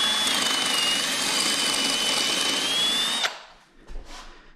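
A power drill whirs at a steady high pitch for about three seconds, then stops abruptly, followed by a brief clunk and short rustle.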